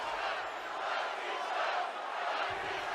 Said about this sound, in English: Crowd cheering for Batista.